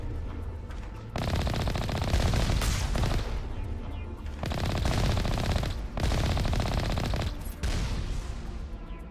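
Rapid automatic fire from turrets in the video game Mass Effect: Legendary Edition, loud sustained bursts of gunfire broken by brief pauses, no talk over it.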